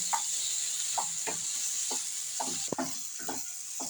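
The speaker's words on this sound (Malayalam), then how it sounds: "ഇനി അതിലേക്ക് നമുക്ക് ഞൊറുക്കി വെച്ചിരിക്കുന്ന ഏത്തപ്പഴം ഇടാം ആ നെയ്യിലേക്ക് ഈ നല്ലോണം വഴകട്ടെ" Chopped ripe banana sautés in hot ghee for banana bonda, with a constant high hiss and rhythmic spoon scrapes and taps about every half second, close and fairly quiet.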